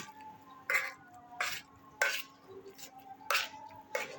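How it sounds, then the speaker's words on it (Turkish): Intermittent scraping and knocking of a utensil against a pot, roughly every half second, as boiled potatoes are mashed and stirred, fairly quiet. "Şimdi patateslerimi güzelce ezmeye başlıyorum"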